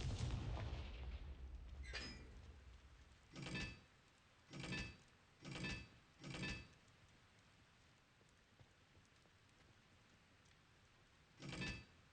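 Confringo blasting spells cast repeatedly in Hogwarts Legacy, five muffled booming bursts in quick irregular succession, then a pause and one more, over a low game ambience.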